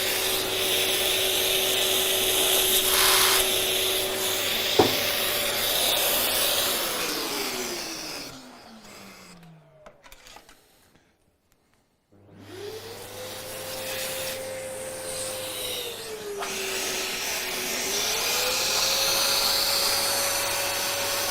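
Drilling into concrete with a Festool drill while a battery-powered Festool dust extractor draws the dust through a nozzle. A continuous loud whirring grinds on, drops away briefly in the middle, then resumes with a rising and falling pitch.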